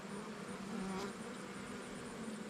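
Honey bees buzz steadily inside a beehive, a close, even drone at low volume with no talking.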